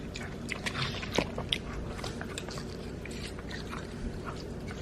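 A dog named Bubba loudly chewing watermelon up close, with wet crunching bites and smacking in an uneven rhythm against a quiet background.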